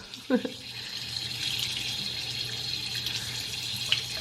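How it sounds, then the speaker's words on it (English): Tap water running steadily from a faucet after its clogged aerator was cleaned out, a close, continuous rushing stream with a brief clunk near the start. "You can turn on the water and run it through the opposite here."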